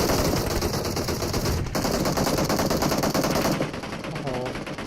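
Loud, rapid automatic gunfire in PUBG Mobile rattles almost without pause, a long close burst that eases slightly near the end.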